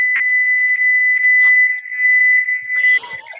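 Electronic beeping picked up through a call participant's microphone on an online group call, a loud sustained two-tone whistle-like beep pulsing in short bursts, with a little muffled noise near the end.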